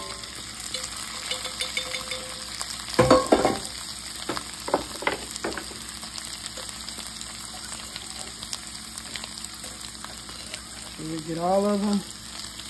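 Drained potatoes sizzle in hot vegetable oil in a pan over medium heat, a steady close crackle that runs throughout, with a few louder scraping stirs and a brief spoken remark.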